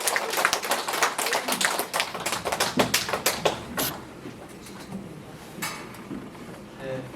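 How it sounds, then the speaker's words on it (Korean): An audience in a lecture hall claps to welcome a speaker, a moderate burst of hand claps that thins to scattered claps and fades, followed by a few faint later claps. "여러분 큰 박수로 환영해 주시면 고맙겠습니다"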